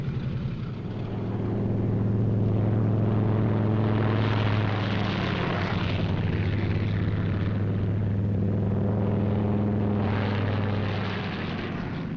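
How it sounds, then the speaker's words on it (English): WWII propeller fighter planes taking off in pairs, a loud, sustained droning engine roar that swells and holds steady, then rises again as another pair runs up and departs. "Takeoff by twos on the quarter minute."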